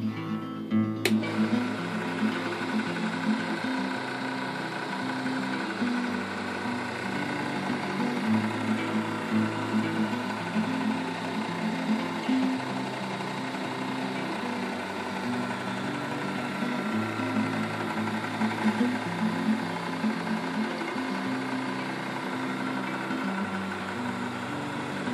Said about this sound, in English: I don't know how fast the motor turns, but it slows it down nice and easily.